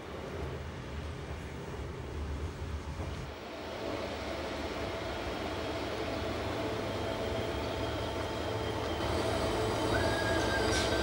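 A Swiss Federal Railways train rolls into Langnau station in the Emmental, a steady rumble of wheels on track building gradually, with a thin squeal of wheels near the end as it slows.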